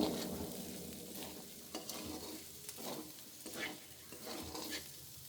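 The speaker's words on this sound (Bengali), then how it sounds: "এবার আলুটা আমাকে মোটামুটি এখানে তেলে ভেজে নিতে হবে।" Boiled potatoes frying in oil in a pan, a soft continuous sizzle with repeated stirring scrapes, quiet and close, no talking.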